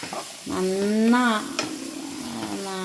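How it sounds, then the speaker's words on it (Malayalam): Chopped onions and vegetables for samosa filling sauté in hot oil, a close, steady sizzle with a few stirring scrapes and a brief tonal squeak, with no one speaking. "ഉള്ളി മാത്രമല്ല ഇതെല്ലാം കൂടി ചെറുതായിട്ടൊന്ന് പിന്നെ വഴന്നു വരണം"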